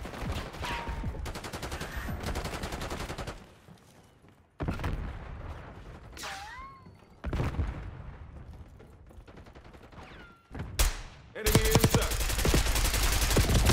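A light machine gun fires in a video game in several long, rapid bursts separated by short pauses, loud and close, with occasional whistling game sounds between the volleys.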